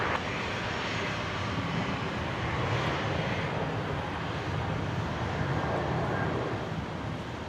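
Qantas 539 airliner taking off from runway 01 right at Brisbane International Airport, a steady, loud broadband engine roar with wind rush that holds unbroken throughout.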